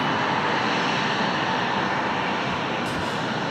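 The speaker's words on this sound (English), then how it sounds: "This one coming in from RDU, our home base, United 1355, an A319." A United Airlines A319 jet arrives at an airport on runway 30 with a loud, steady roar of engine noise and broadband rush that stays constant throughout, with no voices.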